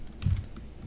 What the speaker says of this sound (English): my fingers are slipping from a keyboard